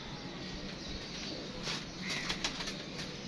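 Pigeons in a pigeon-flying tournament coo softly and wings flap briefly close by as they land, over a steady hiss of outdoor background noise.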